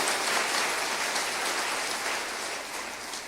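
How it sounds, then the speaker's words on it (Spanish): Loud, dense applause from a congregation during a church service, a continuous wash of clapping that fades slightly toward the end. "Dale un fuerte aplauso al Señor,"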